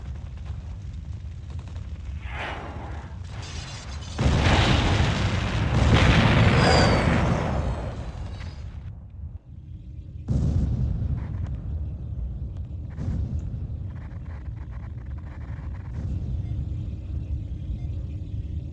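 Ion cannon strikes blasting apart a temple in Command & Conquer, heard as a long loud rumble of heavy explosions with booming surges and rolling debris, fading to lower crackling aftermath.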